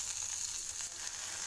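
Curry leaves crackle and sizzle steadily in hot oil in a pan, near and continuous, for a dish of chapati pieces seasoned with salt and chili powder; no one speaks.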